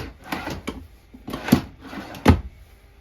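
A drawer in a 2016 Heartland Prowler 285LX RV is pulled open and pushed shut, giving several sharp wooden thuds and sliding clacks spaced irregularly, close and fairly loud with no talking.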